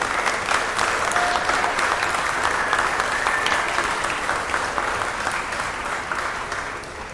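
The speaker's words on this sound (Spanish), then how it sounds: "hace merecedor de un fuerte aplauso para el señor Ricardo Gago" A municipal council audience gives Ricardo Gago Salinero a strong round of applause, with sustained crowd clapping that gradually fades toward the end.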